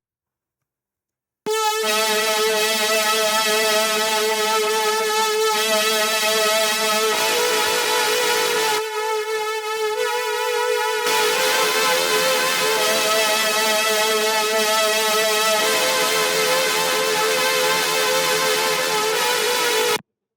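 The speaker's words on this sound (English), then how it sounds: "This is basically a super heavy distortion" Serum 2 synth run through super heavy distortion, a loud, dense, harmonically rich buzzing tone with a steady pitched drone, briefly thinning out midway, playing alone without talk.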